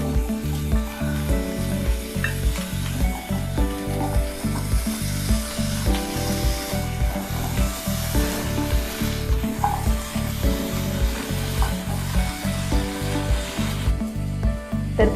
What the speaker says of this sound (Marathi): तर मिनिटभर फ्लावर परतून घेतल्यानंतर आपण यामध्ये बटाटे टाकणार आहोत।